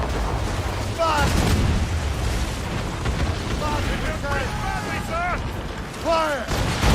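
Ship cannons roar during a naval battle in Assassin's Creed Rogue, a steady heavy rumble of booming fire with shouted voices rising over it.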